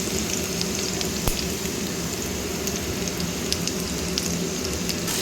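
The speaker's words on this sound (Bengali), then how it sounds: "তেলটা একদম গরম হয়ে গেছে, অল্প একটুখানি রসুন কুচি আমি এখানে দিয়ে দিচ্ছি।" Chopped garlic fries in hot oil in a pan, giving a constant crackling sizzle close up with occasional sharper pops and no talk.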